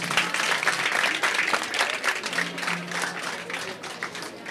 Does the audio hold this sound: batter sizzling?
no